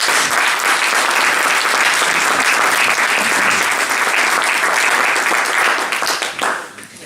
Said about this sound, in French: Ils méritent nos applaudissements.